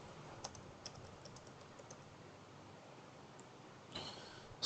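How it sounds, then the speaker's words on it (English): Soft, quiet clicking of keys as a message is typed on a computer keyboard, with a few sharper taps and a louder burst near the end, no voices. "You can type any message"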